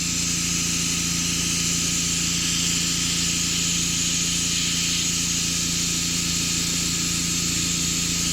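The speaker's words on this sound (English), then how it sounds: "Of course, the paint's over reduced, come through the airbrush." An airbrush sprays thinned blue paint onto a custom motorcycle part, producing a continuous close hiss over a steady compressor hum, with no talk.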